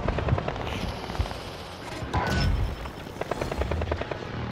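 Helicopters fly overhead during a Call of Duty: Modern Warfare Plunder match, a steady rotor drone under bursts of machine-gun fire and scattered gunshots throughout.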